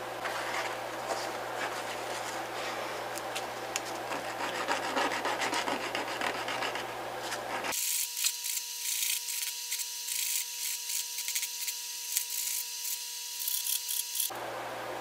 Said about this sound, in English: Gonna have to sand this stuff off.